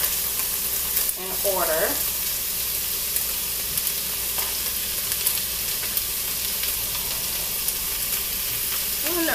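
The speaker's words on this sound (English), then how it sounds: "We're just gonna saute it down with everything else so it can get the flavors in" Spinach and mixed vegetables for vegetarian quesadillas sauté in a hot pan with a steady, close sizzle and occasional stirring scrapes. A brief word is spoken over the frying.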